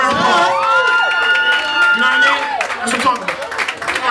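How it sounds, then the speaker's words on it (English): A crowd at a live music performance claps and cheers, with shouts and whoops ringing over dense clapping and a voice talking through the noise. "Give them another round of applause."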